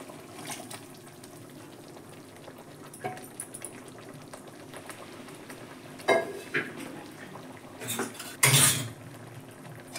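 Water swishing and pouring while a pressure cooker is rinsed at a kitchen sink, with a low steady background hiss and sharp metallic clanks and scrapes of the pot, loudest near the end.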